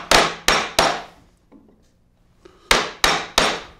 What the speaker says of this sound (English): This is a mortise chisel, specially made for doing mortising work.